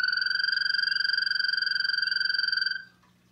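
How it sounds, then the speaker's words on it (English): Toad mating trill played from a handheld device, a loud, steady high-pitched pulsing trill sustained for nearly three seconds before stopping abruptly. "So that is a noise that a toad will make in the wetland, and he can do that for up to 30 seconds."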